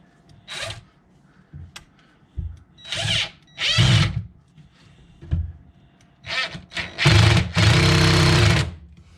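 A power drill drives a screw into a base cabinet while a countertop is fitted, running in short whirring bursts of one to two seconds each, with a longer burst near the end.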